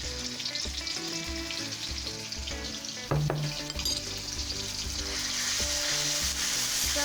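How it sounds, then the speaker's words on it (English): Chili garlic paste sizzles loudly in hot oil in a pan for Thai basil pork stir-fry, a steady close crackle that grows denser toward the end, with a brief clatter near the middle and no talk. "When your oil is hot, add chili garlic paste."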